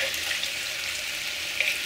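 Pork cracklings for Latin-style chicharrón frying in a pot, a steady hiss of hot fat with a few small pops scattered through.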